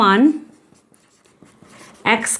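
Handwriting of a math equation during a Class 10 algebra lesson: faint, soft scratching in a quiet stretch between bursts of a man's speech.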